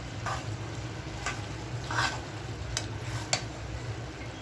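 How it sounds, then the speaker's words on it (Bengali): Washed mung dal and beef liver being stirred in a pan over a low, steady sizzle, with several soft scraping strokes of a spoon at irregular intervals. "সুন্দর করে নেড়ে চেড়ে ডাল এবং কলিজা মিশিয়ে দিচ্ছি।"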